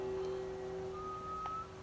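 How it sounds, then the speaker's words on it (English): A character in the video game The Last of Us whistles a faint, steady, drawn-out tune with long held notes, quiet and alone over a low background hum. "whistling."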